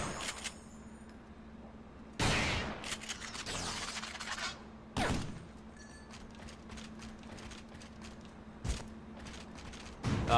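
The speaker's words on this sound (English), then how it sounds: "Heavy machine gun." A heavy machine gun fires in the third-person action game Vanquish, with a few short, loud bursts spaced several seconds apart over a low steady game hum.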